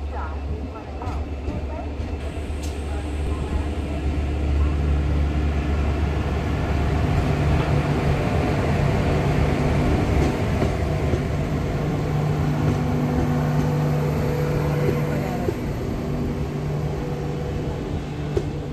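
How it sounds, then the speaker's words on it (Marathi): The Madgaon–Mumbai Mandovi Express pulls into platform 1 at Kankavli station in monsoon weather, a sustained low rumble and hum of the train rolling in, steady and close throughout, with faint voices in the background. "मडगाव मुंबई मांडवी एक्सप्रेस कणकवलीच्या प्लॅटफॉर्म क्रमांक 1 वरती आलेली आहे"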